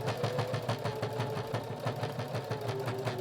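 A sewing machine, cranked by hand, stitches fabric for a small nail file holder, giving a steady, rhythmic mechanical chatter of evenly spaced stitches, fairly close and unbroken.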